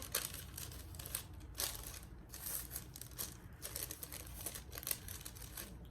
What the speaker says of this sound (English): you're going to fold the paper towards you.